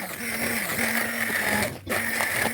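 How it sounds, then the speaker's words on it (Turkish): A steady, loud mechanical whir from a blender during mint jam making, with a high motor whine running throughout, briefly dropping out near the end before resuming. "Şimdi de blenderdan geçiriyorum."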